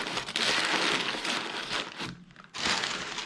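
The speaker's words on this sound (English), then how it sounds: "take newspaper and crumple it up and fill up the inside with newspaper" Newspaper being crumpled up to stuff the inside of a carved Halloween pumpkin gives a dense, continuous crinkling rustle, close and steady, with a brief quieter pause before the crushing resumes.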